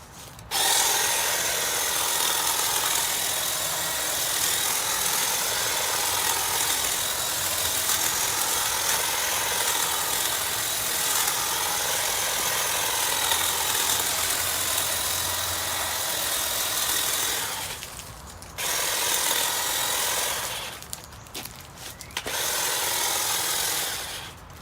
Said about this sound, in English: I'm just going to trim some of the bushes here, and so you can hear it, you can see it